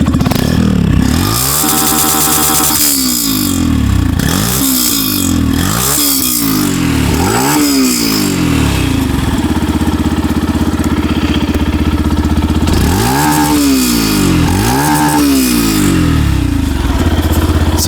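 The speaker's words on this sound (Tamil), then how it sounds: "ஸோ எக்ஸாஸ்ட் நோட் பொறுத்த வரைக்கும் சும்மா இதுக்கும் ட்ரை பண்ணி பார்ப்போமா" A 2025 Yamaha FZS V4 motorcycle engine revs repeatedly through its exhaust, loud and close, with rising and falling revs in a series of blips between stretches of steady idle, and no talking.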